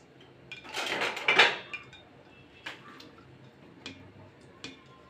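A spoon stirring two halved dried chillies in mustard oil in a pan: a burst of scraping and clinking early on, then a few sparse metallic taps over a quiet background.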